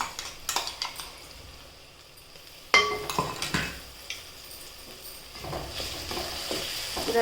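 Ground garlic and green chili paste fry in a pan for a drumstick-flower vegetable dish, a continuous soft sizzle broken by sharp scraping and clinking of a spoon against the pan, louder knocks near the middle.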